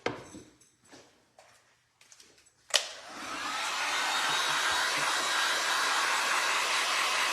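Hair dryer switched on to dry painted grapes on a glass wine bottle, a few small taps and clicks first, then a sudden steady loud whooshing roar that holds without a break, close and with no talking.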